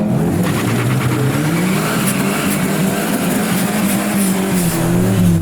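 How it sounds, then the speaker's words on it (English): A boosted classic car doing a burnout at a drag strip, its engine roaring loud and steady at high revs for the whole stretch, with the pitch climbing and dipping and tires squealing underneath. "I'm going to do a burnout"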